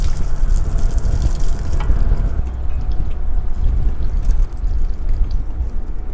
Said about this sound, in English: put the garden hose in the sprayer, put a little bit of water in it